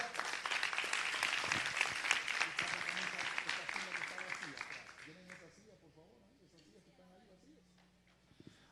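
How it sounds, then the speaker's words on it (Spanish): Church congregation clapping hard during a sermon, dense applause for about five seconds that fades into quieter scattered noise with a voice speaking over it. "Dele palmas con fuerza."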